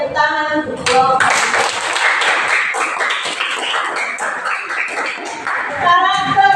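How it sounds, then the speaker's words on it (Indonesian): Classroom of students clapping together for a group, a dense burst of hand claps lasting several seconds, loud and close, with brief voices at the start and end. "tepuk tangan untuk kelompok"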